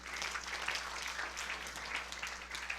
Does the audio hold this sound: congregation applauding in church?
yes